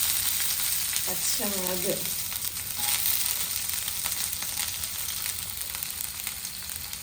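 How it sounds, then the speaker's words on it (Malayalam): Mustard seeds crackle and pop in hot oil in a home kitchen pan, a steady dense sizzle with scattered sharp pops throughout, close and loud, with a brief spoken word partway through. "കടുകിട്ട് കടകട പൊട്ടട്ടെ."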